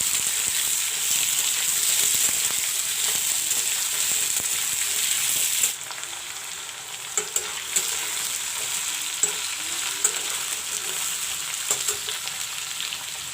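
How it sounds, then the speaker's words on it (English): Potatoes fry in a pan with panch phoran in a steady, close sizzle that softens partway through, with occasional light clicks and scrapes from stirring. "Let the potatoes fry a bit."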